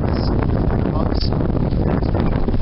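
Wind buffets the microphone outdoors in snowy weather, a loud, dense, continuous rumble and roar that fills the whole stretch with no other clear sound.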